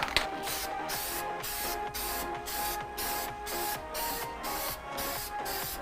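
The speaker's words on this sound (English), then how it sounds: "do one little tiny spray around the edges" Clear coat sprayed from an aerosol can onto a car headlight during restoration, a steady hissing spray in repeated short bursts with brief gaps, close and fairly loud.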